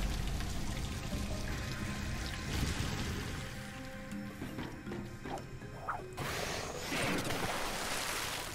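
Water gushes and pours in with a churning rush, mixed with mechanical clanks and whirring machinery, in the video game Ratchet & Clank.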